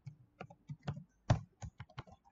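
Someone types a password on a computer keyboard: a quick, uneven run of about a dozen distinct clicks close by, with one heavier key strike midway, in a quiet room with no talking.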